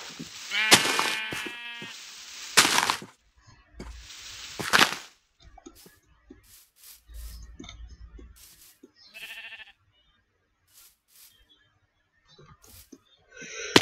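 Blocky video-game sheep bleat in short, loud bursts through the opening seconds, followed by fainter game effects and scattered hits with long quiet gaps.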